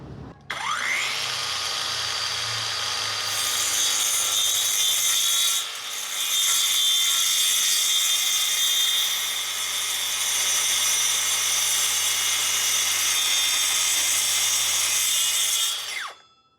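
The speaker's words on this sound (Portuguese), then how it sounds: "vamos fazer o corte aqui nessa cantoneira, ela tem 3 milímetros de espessura" A Hanabi brushless cordless circular saw cuts through 3 mm thick L-shaped steel angle, a loud continuous high-pitched grinding whine lasting about fifteen seconds, with a brief dip mid-cut before the saw winds down.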